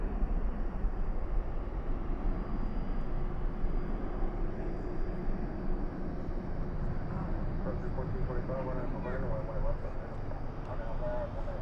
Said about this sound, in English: So again, this one's Iberia flight